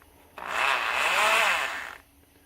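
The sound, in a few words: cheap electric drill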